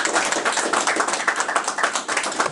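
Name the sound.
round of applause for Dana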